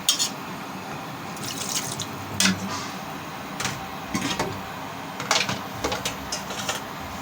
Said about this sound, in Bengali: এখন আমি পানি দিয়ে দিলাম